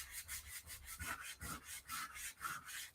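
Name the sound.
sanding a paper-covered journal cover with a sanding block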